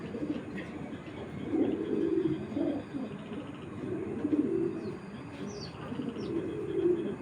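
Soft, low coos from a grizzle pigeon repeat in a steady rhythm nearby, with faint chirps from other birds in the background.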